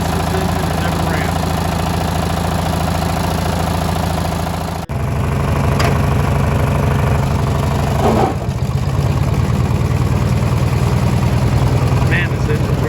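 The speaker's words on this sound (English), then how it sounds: "Man, this engine's running good." Small engine idling steadily after its carburetor low idle screw was tuned, a continuous even throb close by, with a brief dip near the middle and talk over part of it.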